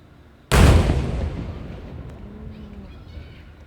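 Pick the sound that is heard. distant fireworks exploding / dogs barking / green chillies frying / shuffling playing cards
distant fireworks exploding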